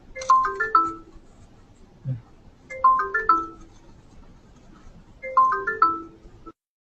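A mobile phone ringtone rings while placing a call, a melodic chiming phrase repeating three times at steady intervals, clear and close, with a brief low thump between the first two phrases.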